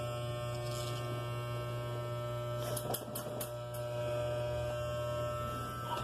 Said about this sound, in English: is that thing shorting out? Sounds like it's about to blow up when you turn it on